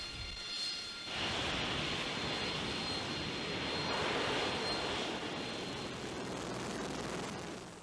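A fixed-wing jet aircraft engine on the deck of a US amphibious assault ship roars up abruptly after a quiet second, then holds a loud, steady, close blast of broadband thrust noise with no voices.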